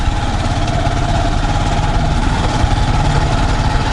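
A small machine's engine labours steadily in third gear under a heavy load at slow speed, a loud continuous low rumble with a constant drone and no pauses.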